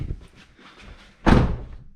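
The door of a 2011-or-later Ford Mustang slams shut, one loud solid thud close by after a few soft quiet rustles.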